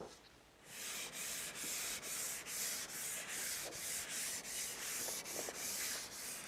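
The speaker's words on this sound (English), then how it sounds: "give it a good buffing and then a waxing" Rhythmic back-and-forth rubbing as a wooden table's finish is buffed by hand, each stroke a soft, steady hiss with brief dips between passes, close and fairly quiet, with no voices.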